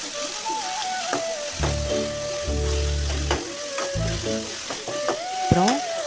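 Five finely chopped onions sizzle and fry in hot oil in a kadai, a steady close crackle with bursts of louder stirring and clattering, and no talking.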